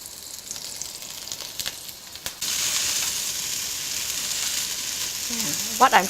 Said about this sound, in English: brinjal, when you fry it, oil seeps out of the vegetable